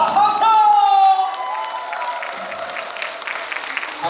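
A live audience at a music album launch event claps and cheers loudly, a dense burst of applause with whoops that tapers into a steadier patter.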